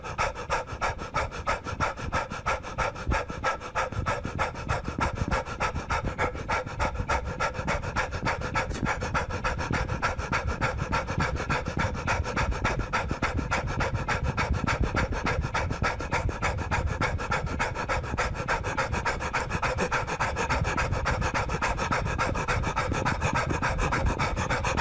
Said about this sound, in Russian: Первое, что я начинаю делать, это быстро дышать.